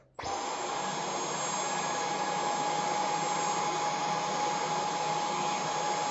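A steady, loud motor whir with a high-pitched whine starts abruptly and holds constant throughout, from a Dyson V15 cordless stick vacuum cleaner running in eco mode.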